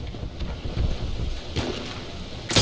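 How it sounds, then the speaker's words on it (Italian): Wind blows across the battlefield in the video game Battlefield 1. It makes a steady, rough rush of noise with a few stronger gusts, heard alone. "C'è troppo vento."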